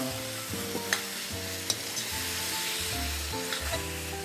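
Meat is stirred with tomato paste and soy sauce in a sizzling pan, a continuous close frying hiss broken by repeated scraping strokes and a few sharp utensil taps.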